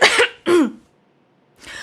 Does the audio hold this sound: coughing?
yes